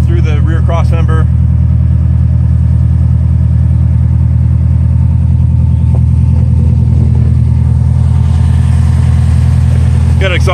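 A Jeep JK fitted with a 392 Hemi V8 and Spintech 9000 XL mufflers idles at low RPM, a loud, steady, close-up exhaust rumble that runs throughout, with someone speaking briefly at the start and again near the end.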